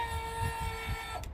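A steady mechanical hum and whine of LCI Ground Control 3.0 RV auto-leveling hydraulic jacks running nearby outdoors on a windy day, with low rumbling pulses underneath and no talking.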